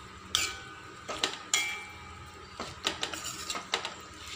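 Orange peel pickle being stirred in a pot with added sugar, a spoon knocking and scraping against the metal in scattered clinks and scrapes, close and fairly quiet, with no talking.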